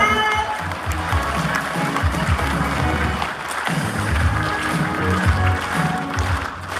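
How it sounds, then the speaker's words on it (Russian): Audience applause at a Christmas concert, Рождественский звездопад 2022, fills a large hall as a dense, steady roar of clapping that holds constant throughout, with faint musical tones lingering beneath it. "Еще раз аплодисменты"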